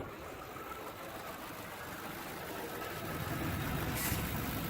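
A 2010 Crown Victoria Police Interceptor idles very quietly and smoothly, a low steady hum under faint outdoor background noise that swells slightly toward the end.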